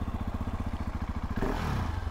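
A 2020 KTM 690 SMC-R supermoto single-cylinder motorcycle with a silenced exhaust idles with a fast, even thumping pulse, then the engine revs up sharply and roars louder near the end.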